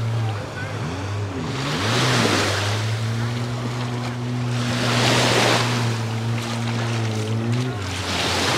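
Jet skis out on the sea off Palmanova, Mallorca, drone with a steady engine hum that holds a changing pitch, heard over surf washing in waves and wind buffeting the microphone.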